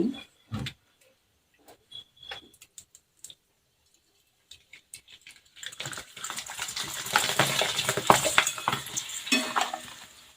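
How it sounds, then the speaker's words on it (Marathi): Steamed rice papad dropped into hot oil: a few sparse clicks and small splashes at first, then a burst of loud, crackling, bubbling frying close by that keeps going to the end. "अजून एक तळून दाखवते"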